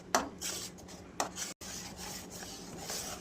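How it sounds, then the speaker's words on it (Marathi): A thick sweet mixture for a tricolour sweet is stirred constantly in a pan on a gas stove, giving repeated close rubbing scrapes against the pan with a short break in the middle. "पण ही गॅसवर ठेवून घेऊ. सतत हलवायचं बरं का."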